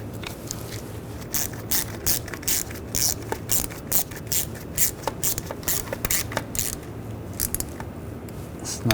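Hand ratchet snugging throttle body bolts on a 2009-2017 Volkswagen Tiguan 2.0L four-cylinder, a steady stream of quick close clicks and ticks over a low background hum.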